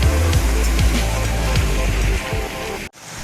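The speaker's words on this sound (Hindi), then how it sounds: "ये इधर से बह रहा है पूरे रोड का पानी," Heavy rain in Amer, Jaipur, with water flowing along the road: a steady, loud wash of rain and running water, faint voices under it, then a brief drop near the end before the rush returns.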